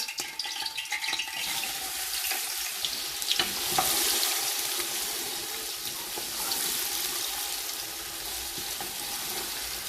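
Steady hissing sizzle of onions frying in hot oil for chicken biryani, close by, with occasional crackles and stirring sounds and no voices.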